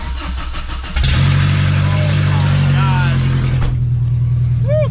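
Worn-out junkyard Volkswagen Golf 3 engine cranking and catching after a short idle stretch, then settling into a very loud, harsh, close-up idle with a sudden drop in level, followed by a brief squeaky sound at the end.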